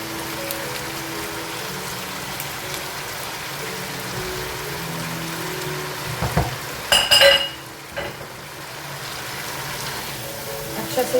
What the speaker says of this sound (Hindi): दही के साथ पाए को भून लेंगे ताकि वो दही और मसाला एक साथ हो जाए